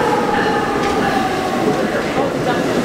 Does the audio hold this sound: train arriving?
yes